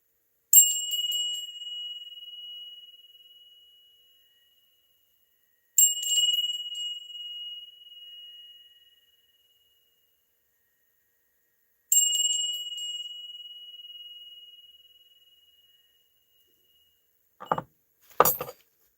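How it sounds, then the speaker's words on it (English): A bell struck three times for prayers, each a bright ringing tone that sustains and fades over a few seconds with silence between, followed by a short knock near the end. "We're ringing the bell for Chloe 3 times, sending out prayers for Chloe"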